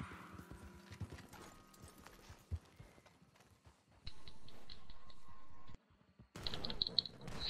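A horse gallops in the Red Dead Redemption 2 Online video game, its hooves making a quick, fairly faint clip-clop mixed with clicks and other game noise, and a louder burst comes near the end.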